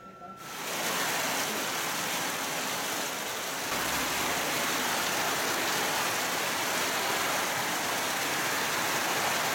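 Heavy rain in the East Timor rainy season, a dense, even roar of downpour that fades in quickly and holds steady and loud with no voices.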